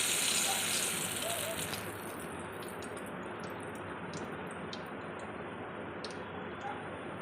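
Gulab jamun fry in hot oil with a dense, steady sizzle and crackle heard close, a louder hiss at the start that settles into a constant bubbling.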